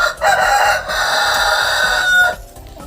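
Turkeys in mating season in a Ukrainian village, with a loud, close run of gobbling and clucking calls that continues for about two seconds before fading.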